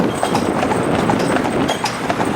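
Hooves of a pair of ill-matched Friesian horses pulling a carriage: steady, overlapping clip-clop beats on a hard surface, moderately close, with rolling wheel and harness noise underneath and no talk.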